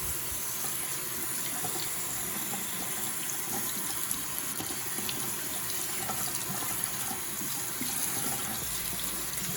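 Warm tap water runs steadily into a sink, rinsing soap out of a shaving brush, a continuous close splashing flow with no talking.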